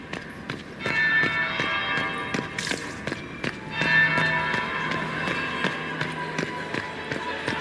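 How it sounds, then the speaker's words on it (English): A church bell rings in a video game, with several clear metallic strikes spaced a few seconds apart and ringing over a background of rhythmic tapping steps. "That would be the second bell."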